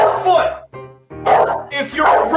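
A dog gives a few sharp barks and yips in quick bursts, close and fairly loud, separated by brief pauses, with no other voices alongside.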